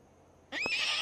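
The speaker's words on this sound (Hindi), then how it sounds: "घोड़े की आवाज़।" A horse neighs in a single loud, shrill whinny that bursts in midway after near silence and holds to the end, with no talk over it.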